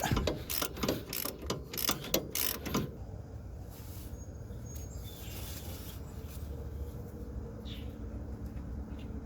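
A ratchet wrench clicks rapidly in short bursts while backing out a 12mm bolt on the rack and pinion of a 2003-2009 Toyota 4Runner, loud and close for about three seconds, followed by quieter rubbing and handling noise.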